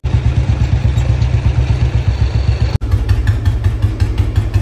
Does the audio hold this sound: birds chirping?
no